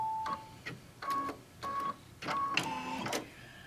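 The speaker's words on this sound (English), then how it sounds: "So again, it's going to stitch the other side." An embroidery machine stitches the second side of a fabric mug wrap held in a hoop, giving a steady, close rhythmic whirring and clattering in quick bursts with short pauses and a high tonal hum between stitches.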